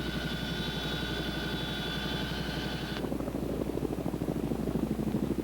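Tandem-rotor CH-47 helicopter in flight carrying a sling cargo load, a steady pulsing rotor chop with a droning engine whine that cuts out partway, continuous and fairly loud with no voices.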